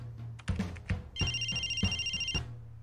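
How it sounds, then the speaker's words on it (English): A telephone rings with a bright electronic tone, one sustained ringing burst layered over a rhythmic beat of soft thumps, fairly close and loud with no talking. "That phone call may have just blown out my ears."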